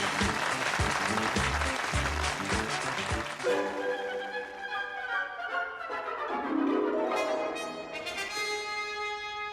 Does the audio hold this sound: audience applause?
yes